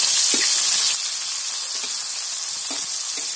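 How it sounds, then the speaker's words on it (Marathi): Chopped onion fries in a pan for a homemade Marathi chicken dish, giving a loud, continuous sizzle with a few soft stirring knocks and a slight drop in hiss partway through. "सर्व कांदा चांगला फ्राय करायचा आहे"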